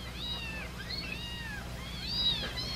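Newborn kittens, four of them, meow in thin, high, rising-and-falling cries, several overlapping calls close by over a low steady background hum, with no talking.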